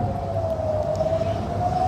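An air raid warning siren wails in Eilat during Iranian missile attacks. Its single steady tone sustains loudly throughout, with only faint drift in pitch and a low rumble of background noise beneath it.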